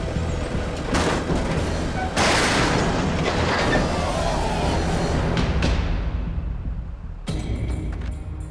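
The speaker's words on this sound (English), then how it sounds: "Hearing a winch line break, it's like a gunshot." Loud rumbling heavy machinery with a few sharp, gunshot-like cracks of a winch line snapping, then a brief lull before a final abrupt bang.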